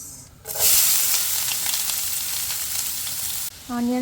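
Thinly sliced onions and cumin seeds hitting hot oil, a sudden loud sizzle that hisses steadily and close, with a brief voice at the end.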